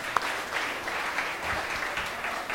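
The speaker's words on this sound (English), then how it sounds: "I think that deserves a round of applause as well." Audience applause at a live late-night talk show taping, a steady wash of clapping from a crowd heard alone for a couple of seconds at moderate level.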